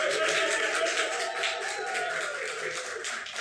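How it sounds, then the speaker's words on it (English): A short burst of crowd applause sound effect, steady clapping from many hands at moderate volume, played alone for a few seconds. "a round of applause."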